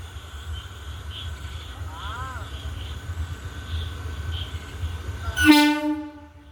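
A train rumbles steadily nearby, then a loud, sharp horn blast sounds near the end and fades.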